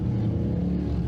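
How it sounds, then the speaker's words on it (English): Motorcycle going past a house, a steady engine drone with a low rumbling tone heard from indoors at moderate distance, alone with no talking during the brief moment. "you probably just heard that motorcycle passing by my house"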